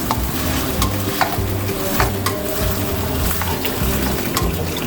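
Chicken frying in a pan with ginger garlic paste added, for Singaporean rice: a steady close sizzle with rhythmic scraping of a utensil stirring through the pan.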